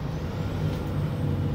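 A Scania lorry labors up a hill on Exmoor, its engine rumbling steadily and close with a hissing air brake over the top, and no one speaks.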